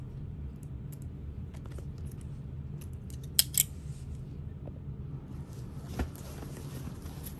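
Scissors trimming loose threads from a sewn shoulder bag with the zipper tucked inside, a few soft, sparse snips against a quiet background with no talking.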